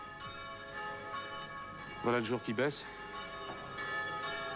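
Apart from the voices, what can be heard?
church bells ringing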